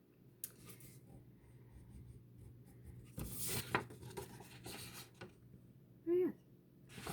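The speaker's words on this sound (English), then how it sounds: "You're just drawing a V for your beak." A pencil sketches a short V-shaped stroke on paper, faint, soft scratching heard close up in a quiet room, with a few small bumps and rustles around it.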